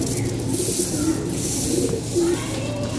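Domestic pigeons coo repeatedly at close range. Their soft, low calls recur over a steady background hiss.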